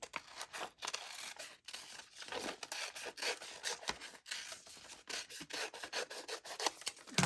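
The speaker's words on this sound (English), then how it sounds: "So we're just going to cut the heart shape out." Scissors cut a heart shape out of paper for a craft apple decoration, giving a steady run of close, quiet rasping snips with brief pauses between strokes.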